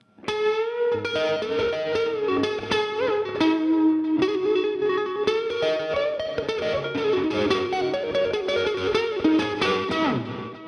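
Distorted electric guitar chords tuned to D standard ring out through effects, with a subtle pulsing tremolo wobble over a steady, full sound.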